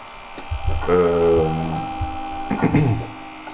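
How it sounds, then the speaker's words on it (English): A permanent makeup machine, similar to a tattoo machine, buzzes steadily with a harmonic electric whine that shifts pitch partway through, while a person talks over it. "It's machines for permanent makeup. They are similar to tattoo machines"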